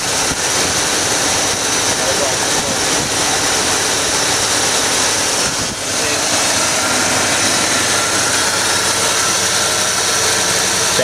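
A 1986 Dodge W150 Royal SE 4x4 with a Holley 600 CFM four-barrel carburetor runs steadily up close, a loud, continuous rumbling engine note with one slight dip partway through.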